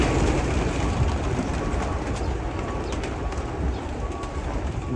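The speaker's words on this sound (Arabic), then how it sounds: "ادينا اهو في المزرعة حمام اهو" Pigeons coo in a dense, continuous chorus at a large pigeon farm, a loud, close wash of many birds at once with no speech.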